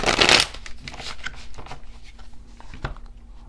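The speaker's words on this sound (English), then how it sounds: "I'm doing a little bit of a new thing with my shuffling of my tarot cards here" Tarot cards riffled and shuffled by hand up close, a dense fluttering burst at first that settles into softer slides and taps.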